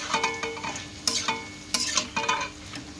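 Onions and bottle gourd bori frying in oil in a pan, a steady sizzle broken by several sharp scraping stirs of a spatula, close and clear.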